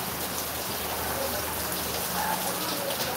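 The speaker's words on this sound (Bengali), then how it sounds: "আবার বৃষ্টি নেমেছে জোরে।" Heavy rain pours down steadily, a dense, even hiss of drops drumming on surfaces, loud and unbroken throughout with no voices.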